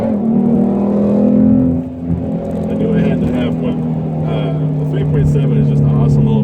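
A modified 2016 Ford Mustang S550 with the 3.7-litre V6 drones loudly and steadily, its engine note dipping briefly and then climbing again as it revs.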